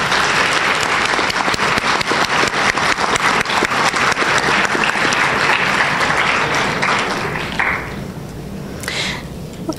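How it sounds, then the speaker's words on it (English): A round of applause at a National Honor Society ceremony, loud dense clapping from a large audience that tapers off toward the end, leaving a few scattered claps and faint room noise. "I truly believe that this demands a round of applause."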